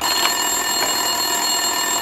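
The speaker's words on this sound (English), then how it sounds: "Winterson's phone was ringing" A phone ringing in Max Payne 2, a steady electronic ring with bright harmonic tones that fills the whole stretch at even loudness, with no talk over it.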